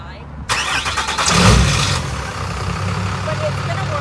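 A truck engine turns over and runs on, rough and fairly loud nearby, settling into a steady low rumble.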